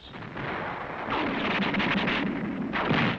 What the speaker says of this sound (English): Artillery of the 15th Marines pounded the Yaitaki defenses